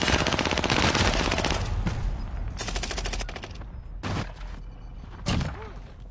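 Video game gunfire, rapid automatic bursts rattling loudly for the first few seconds, then thinning into scattered single shots and short volleys, with a voice talking under the action.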